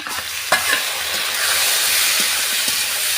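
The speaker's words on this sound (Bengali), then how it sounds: "আলু কটা ভেজে নিচ্ছি, লাল লাল করে ভেজে নেব, তারপরে আবার তরকারির সময় দেখা হচ্ছে। তো চলো এখন আমি মাংস কটা ঢেলে দিই" Meat is tipped into a pan of frying potatoes and a loud, steady sizzle of hot oil follows, close and continuous, with a few stirring knocks at the start.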